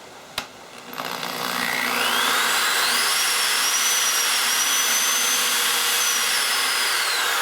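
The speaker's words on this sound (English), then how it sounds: "Go slow when you're drilling with a drill bit through this plexiglass because it can crack on you." A drill bit spinning through a sheet of plexiglass, a steady high-pitched whine with rising tonal squeal that starts after a brief knock and holds loud and continuous to the end, with no talking.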